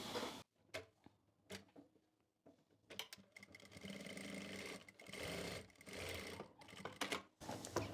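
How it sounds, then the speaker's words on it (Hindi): Sewing machine stitching a neckline onto the center of a panel kurti, running in several bursts of varying length with short pauses between, close and fairly loud. "और बीच में सिलाई लगा लेंगे"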